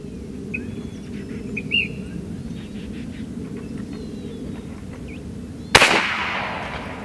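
A Challenger Pro 357 PCP air rifle fires a slug outdoors with one sharp, loud crack near the end and a short decaying tail, after a quiet stretch with faint birdsong in the background.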